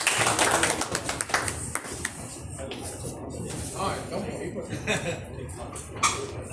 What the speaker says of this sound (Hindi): एक बार पुनः तालियां उनके सम्मान में आप सभी की तरफ से।